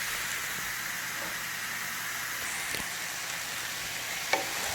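Zucchini, onions and garlic sauté in a pan with a steady, moderately quiet sizzle and hiss, broken by a few faint clicks and one brief tap.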